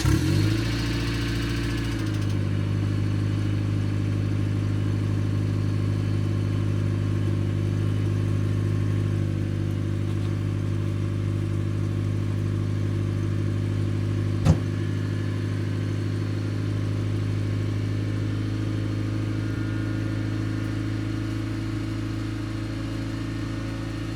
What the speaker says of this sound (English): I'll let you guys hear a cold start on this car